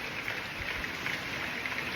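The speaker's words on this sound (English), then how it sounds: "fresh rain hitting the warm earth" A rain shower falls on warm earth, producing a steady, even hiss of raindrops on the ground, moderately close and continuous with no voices.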